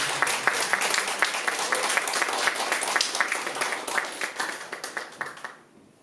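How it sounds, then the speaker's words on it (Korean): A church congregation applauds steadily after a baptism with dense, overlapping claps, the clapping fading out near the end. "이제 주하길 교회 세례 교인이 된 김용희 형제를 다 같이 박수하며 축복하며 모든 세례 예식을 마치도록 하겠습니다."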